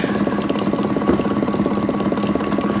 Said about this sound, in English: And it's just draining some of the water out.